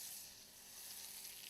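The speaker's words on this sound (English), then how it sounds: "when it's really hot, add the sliced chorizo." Sliced chorizo sizzles in hot oil in a frying pan, a steady hiss and crackle that stays fairly quiet and constant throughout, with no voices.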